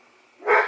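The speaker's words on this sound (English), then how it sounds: "Sorry for my dogs barking" Dogs barking indoors: one loud, close bark-like burst rises at the end after a quiet stretch of room tone.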